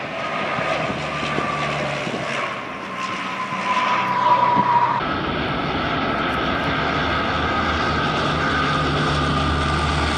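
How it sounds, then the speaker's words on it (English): A NASA Super Guppy, a short, wide-bodied cargo plane, flies overhead with a steady, loud engine drone and propeller roar, a rising then shifting pitch as it passes, with no talk. "NASA has their own version of the plane called the Super Guppy"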